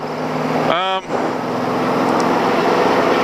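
A 6.3-liter LSE30 race car climbs through the esses at VIRginia International Raceway under full throttle, its loud, sustained engine roar filling the cabin around a brief upshift dip.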